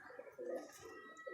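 A pigeon, a female highflyer kept in a loft, coos softly in repeated low throaty bursts, several short coos across the moment with a brief pause between them, close by and alone with no talking.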